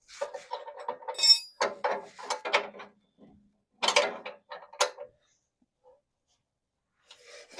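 A wrench works on 19 mm suspension bolts during a Bilstein 5100 install on a Lexus GX470, giving several close metallic clicks and ratcheting scrapes in short bursts separated by quiet pauses.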